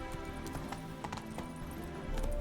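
Horse hooves galloping in The Witcher 3: Wild Hunt, Hearts of Stone, a steady rhythmic clip-clop running throughout at moderate level over a dense game soundscape, growing louder near the end.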